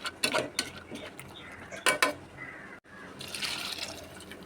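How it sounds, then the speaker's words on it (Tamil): Water pours and sloshes into a pot of mutton soup with ground paste, alongside clinks of a utensil against the metal, close by, briefly pausing midway. "இப்போ அரைச்சி விழுதுலேயே தண்ணியை ஊற்றி"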